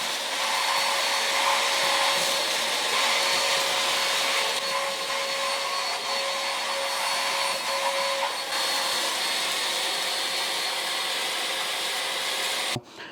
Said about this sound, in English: I'll just turn the boost mode on. A lot better.